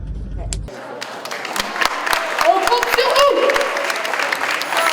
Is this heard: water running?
no